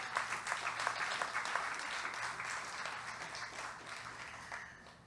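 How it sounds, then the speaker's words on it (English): An audience at a tribute to Robbie Shakespeare gives a sustained round of applause, dense and even, fading slightly toward the end. "Clap him again."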